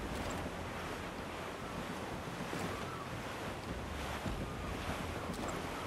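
Ocean waves wash and wind rushes steadily around a sailing ship at sea in the video game Assassin's Creed IV Black Flag, a broad, even surf-and-gust texture with no voices.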